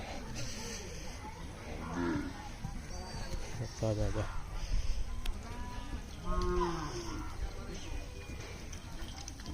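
Cattle low a few times in long, drawn-out moos at moderate distance, mixed with people talking, on a muddy dirt road in a Bangladeshi village.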